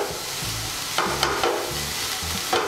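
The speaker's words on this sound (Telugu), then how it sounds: "చికెన్ గ్రిల్లర్లో పెట్టేసి కూడా ఆన్ చేసేసినాము" Chicken sizzles steadily in an electric griller, a close, continuous fry hiss broken by a few brief clicks and low thumps, with no voices.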